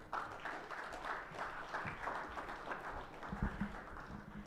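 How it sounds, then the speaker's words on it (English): An audience at an evening event applauds the chief guest, a faint, steady wash of clapping from a distant crowd lasting several seconds. "Can we have a huge round of applause for him?"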